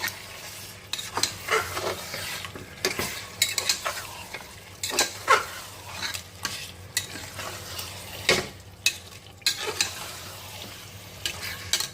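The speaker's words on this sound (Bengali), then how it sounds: "এখানে আমি মাটনটা দিয়ে দিলাম" Mutton pieces for a vindaloo being stirred and fried in a spice masala, with loud sizzling and frequent scraping and clanking of a ladle against the pot.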